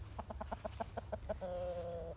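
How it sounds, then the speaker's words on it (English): A hen-like rooster clucks in a rapid run of short calls, then holds one long, steady nasal note; close by, with a low hum beneath. "So this is my one rooster that I decided to keep along with that blue Americana."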